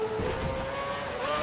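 A Formula One race car in the F1 2012 racing game, a sustained high engine whine that holds and shifts pitch as it passes close by, with no talk.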